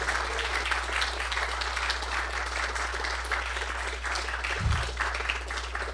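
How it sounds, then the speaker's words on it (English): Audience applause at a Virginia labor campaign meeting, a steady continuous wash of many hands clapping for a full six seconds, with a low mains hum underneath and a brief low thump near the end. "let's have a round of applause for Michelle"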